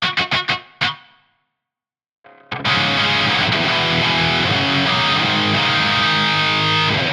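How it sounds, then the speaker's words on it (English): An electric guitar plays through a Bondi Effects Sick As Overdrive pedal set to high-gain distortion. A few choppy muted stabs come first, then a pause, then a sustained, thick distorted chord ringing loud and steady. "it's a smooth sort of distortion"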